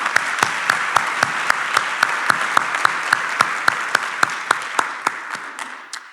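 An audience at a 2024 State of the County address claps in steady unison, evenly spaced sharp beats that carry on for several seconds before fading out at the end.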